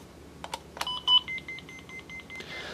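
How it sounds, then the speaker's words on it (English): Solar receiver beeping during push-button pairing: a few short clicks, then a string of evenly spaced high electronic beeps, close and clear over a quiet background. "Listen for the first beep and then let go."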